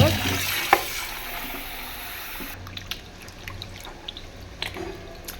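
Prawns being cleaned under running water: a steady wash of flowing water with scattered small splashes and drips, close by and moderately loud, with a faint voice in the background.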